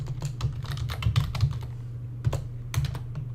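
Typing on a computer keyboard while building a spreadsheet formula, with irregular bursts of clicky keystrokes and short pauses, steady low hum underneath, close and moderately loud, no talking.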